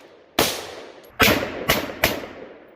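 An HK G36C rifle firing four sharp, loud single shots in quick, slightly uneven succession, each followed by a brief echoing decay, with no voices.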